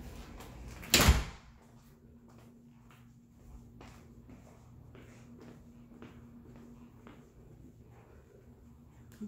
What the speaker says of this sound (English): It's a single French door, but it takes you right out to the backyard.